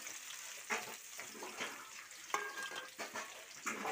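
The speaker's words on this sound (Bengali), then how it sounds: "এবার দিয়ে দেবো পেঁয়াজ, কুচানো পেঁয়াজ আছে, দিয়ে দেবো।" Chopped onions and ripe chilies fry in hot oil with a faint, soft sizzle, and a few light clicks and stirring scrapes sound from the pan.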